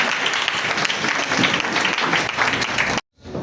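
A church congregation applauds in a dense, loud round of clapping that runs steadily, then cuts off abruptly into near silence.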